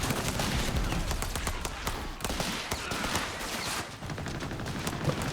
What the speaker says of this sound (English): The MG42 coming up.